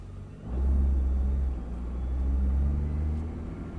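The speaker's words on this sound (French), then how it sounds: "Tu es en première manuelle, un petit coup de gaz, ça avance." A car pulls away in first gear on a racing circuit, its engine rising into a low, steady rumble that swells, dips slightly, then builds again.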